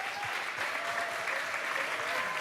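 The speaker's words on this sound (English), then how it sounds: "Please give them all a warm round of applause." An audience at a youth climate summit gives a warm round of applause, dense steady clapping filling the room for a couple of seconds.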